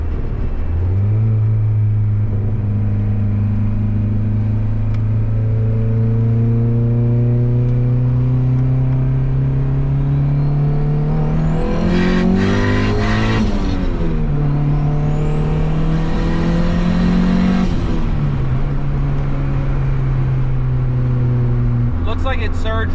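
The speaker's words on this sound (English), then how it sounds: "I'll let it warm up for a minute, and we'll go take it for another rip" A turbocharged Honda Civic engine revs loudly and continuously through the drive, with the pitch climbing under acceleration in several pulls and dropping between gears, along with brief whooshing bursts.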